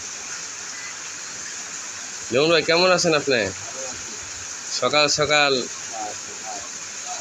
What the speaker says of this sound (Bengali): গরুদেরকে পানি দিয়ে ঘাস ধুয়ে দিতেছে।